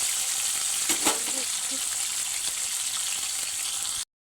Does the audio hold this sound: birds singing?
no